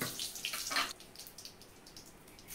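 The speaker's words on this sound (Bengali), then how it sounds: "তেলটা গরম হওয়ার পর শুকনো মরিচ কয়টা ফোড়নে দিলাম" Dried chillies sizzle in hot mustard oil as a tempering. A burst of loud spattering crackles opens the sound and then settles into a quieter, steady hiss with scattered small pops.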